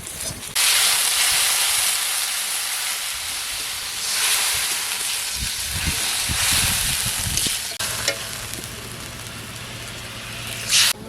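Water poured into a pan of frying mustard and poppy seed masala, made for pomfret curry, erupts into a loud, continuous hissing sizzle with steam that carries on steadily and close throughout.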